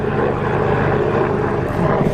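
An Abarth 595 Competizione idles steadily close by, a constant low engine drone with faint harmonic rumble and no variation over the short stretch.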